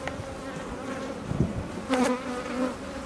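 Honeybees buzz steadily at an open hive during a colony split, a continuous close insect drone with a few louder swells as bees pass near.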